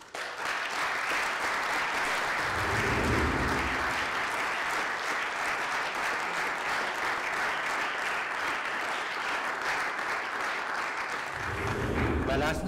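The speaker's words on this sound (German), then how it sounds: "Einen ganz, ganz großen Applaus." Long, full round of audience applause at the Stuttgart 2021 CSD reception in the city hall, steady and dense throughout, with a few voices rising briefly beneath it near the start and end.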